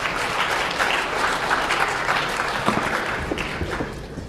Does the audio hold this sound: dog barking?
no